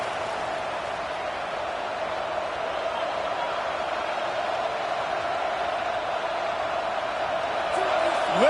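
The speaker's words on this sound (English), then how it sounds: "Listen to this crowd just shaking the girders of this place trying to help their defense" A college football stadium crowd roars in a sustained, far-off wall of cheering noise meant to rattle the opposing offense, steady and even with a slight swell near the end.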